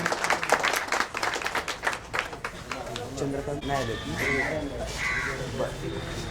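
An audience claps at a World Disability Day award ceremony held by a disability welfare organisation, with a quick burst of hand-clapping that fades as someone speaks over a loudspeaker.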